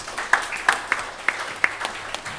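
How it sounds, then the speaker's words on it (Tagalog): Scattered applause from a church congregation praising the Lord, with a few distinct sharp claps standing out over a thin, lighter patter. "bigyan natin na mainam na palakpak ating Panginoon"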